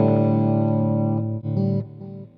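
Clean electric guitar played through a BluGuitar AMP1, a few sustained chords ringing out loud and alone, then a brief break and a softer strum that fades.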